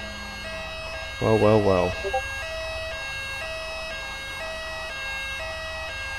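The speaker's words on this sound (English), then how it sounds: "Turn your flipping siren off, please." Police car siren in GTA 5 drones steadily through the whole stretch, loud and continuous, while someone speaks briefly over it partway through.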